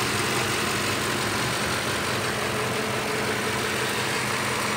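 A freshly overhauled Toyota Land Cruiser V8 engine runs steadily at idle on its first start, a loud, continuous close-up rumble with no voices.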